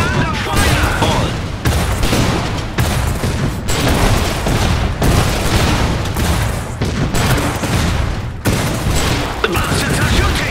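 Dense, loud game battle from Iron Harvest: continuous enemy gunfire and volleys mixed with heavy booming explosions, close and relentless across the whole stretch, with brief dips between bursts and shouted game voices over the top.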